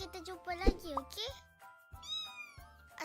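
A cat meows several times, close and clear, with rising and falling cries woven among a child's and other people's voices speaking alongside it in a calm indoor setting.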